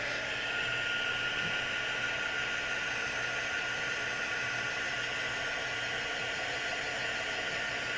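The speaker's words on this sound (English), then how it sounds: "I'm going to use my heat gun." A heat gun dries a coating on a junk journal page with a steady, even blowing whoosh, constant and close throughout, with no talk.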